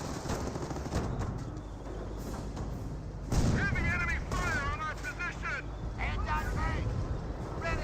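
MG42 machine gun fire in the Company of Heroes video game: rapid bursts rattle continuously amid distant battle booms, with one heavier thump midway, while a commentator talks over the combat.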